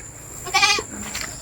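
A goat gives a single short, wavering bleat at close range on a farm at night during rice hauling, followed by a fainter second call over a quiet, steady background hum.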